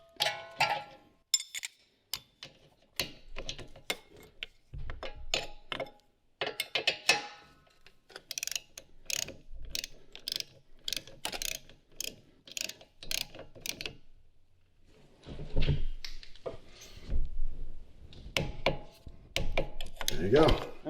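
A torque wrench ratchets lug nuts tight on a 2019 Chevrolet Equinox during a brake job, producing bursts of sharp metallic clicks in quick runs separated by short pauses, close and clear with no talking.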